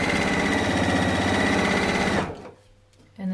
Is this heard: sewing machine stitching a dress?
yes